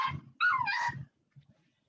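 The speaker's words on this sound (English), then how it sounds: "There's like a dog nearby." A dog nearby during an online webinar gives a short, high, whining yelp that rises and falls, with faint low thumps around it and a brief quiet sound after.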